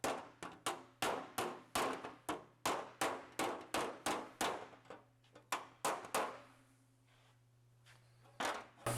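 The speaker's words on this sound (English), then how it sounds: "we'll go back to the hammer a little bit" Sharp metallic hammer blows straighten a bent flange on a damaged Austin-Healey 3000 shroud, about twenty ringing strikes in quick irregular bursts, then a pause before a few more blows over a low steady hum.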